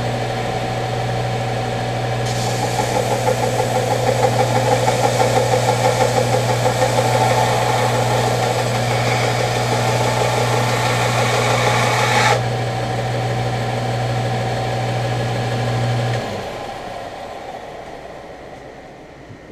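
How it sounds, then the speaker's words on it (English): A big belt grinder runs loud and steady as excess pin material is knocked off a knife handle, a sustained whine and rasp that cuts off partway before the motor hum winds down. "We'll put it on the big belt grinder and knock this excess off that squeezed through the holes."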